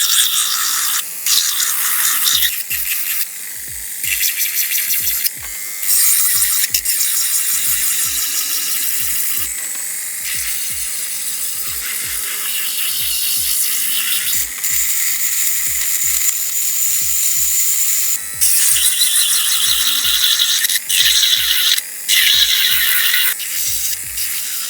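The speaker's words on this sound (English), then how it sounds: "So you're just going to watch me file the inside of these nails." An electric nail drill files the inside of press-on nails in a steady high whine, broken by frequent short pauses and restarts, with sharp clicks as the bit catches, loud and close throughout.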